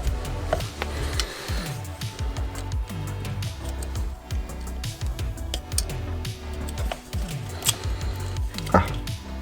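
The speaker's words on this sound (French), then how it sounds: "moi je vais couper ici." Scissors snip through a camo skin wrap for an airsoft P90, a run of short crisp cuts and rustles close up over a faint musical backing.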